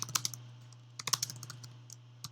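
Fingers tap on a computer keyboard in two short bursts of typing separated by a pause, with a few single keystrokes at the end over a low steady hum.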